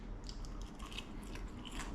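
Crunchy, freshly fried chips bitten and chewed up close beside fried lampuki fish, a quiet run of crisp irregular crunches over about two seconds with no talking.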